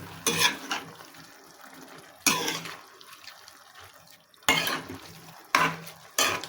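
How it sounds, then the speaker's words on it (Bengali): A spoon stirs mung dal with spinach in a pan, giving four or five loud, scraping, sloshing bursts separated by quieter stretches of gentle simmering. "হলুদ দেব একটু দিয়ে নাড়াচাড়া করে নেবে"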